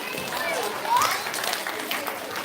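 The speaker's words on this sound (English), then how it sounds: "So we give a round of applause for 3BK." Applause at an elementary school quarterly recognition ceremony, a steady wash of clapping from the audience with voices mixed underneath.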